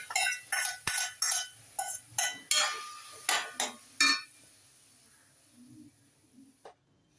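Boiled nathangai citron pieces dropped into a heated pan, a series of about ten sharp clinks and short sizzling hisses in an uneven rhythm, followed by a quieter stretch with faint scraping.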